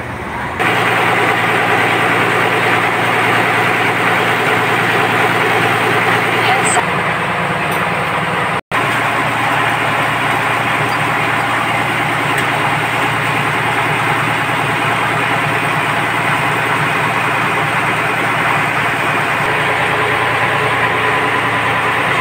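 A large ship engine on a RoRo vessel fitted with a fuel combustor runs steadily at close range, a loud continuous low drone that holds level throughout, with one brief cut partway through.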